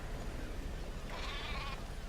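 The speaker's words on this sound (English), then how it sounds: "we see our friends, the sheep, as well as Jackie, have made it back to base safely" Sheep bleating in the video game Metal Gear Solid 5: The Phantom Pain, a single wavering bleat rising midway through over a steady low game ambience, moderately close and without talk.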